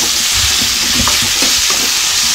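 Onions, dried red chillies, curry leaves and chopped tomato sautéing over medium flame in a pan, a loud steady sizzle with soft stirring knocks, close up and without speech.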